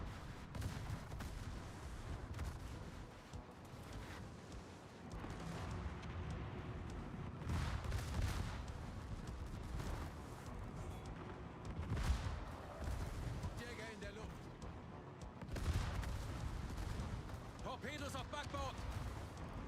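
Warship secondary battery guns firing in World of Warships, repeated booming salvos at irregular intervals under a rumbling battle bed, with someone talking over them.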